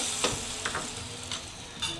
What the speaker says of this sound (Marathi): आता ह्याच्यावर मी फोडणी टाकणार आहे ही फोडणी तेल जिरं आणि हिंगाची आहे